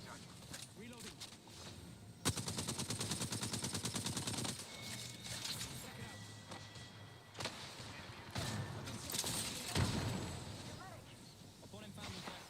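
Apex Legends gunfire rattles in a rapid automatic burst, followed by scattered shots and impacts under in-game voice lines and layered game sound, mid-distance and fairly busy.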